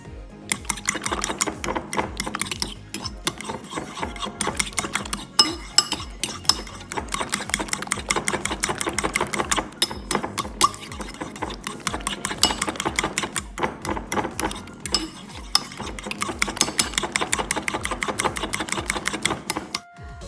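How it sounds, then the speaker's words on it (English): Electric hand mixer on low speed beating two eggs for banana pancakes, a steady close whirring and rattling against the bowl that runs throughout with brief dips. "I use this mixer machine"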